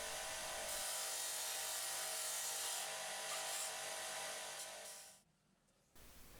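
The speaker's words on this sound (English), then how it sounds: "I just give it a final sand so all the edges line up perfectly" Sanding the foot of a home-built motorcycle side stand makes a bright, continuous abrasive rasp for about five seconds, then it drops away to near quiet before a faint hiss returns.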